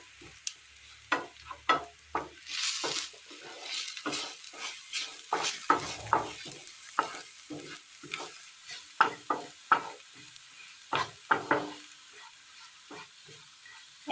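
A ground cinnamon, cardamom and clove spice mix being stirred in a pan for peanut curry, with a sequence of sharp spoon scrapes and taps over a soft frying sizzle, close and fairly quiet.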